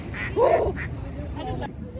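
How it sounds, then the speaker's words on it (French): Ducks quack near the Eiffel Tower in Paris, a short burst of close calls rising out of steady outdoor crowd murmur and background chatter. "Attendez, on va regarder les canards."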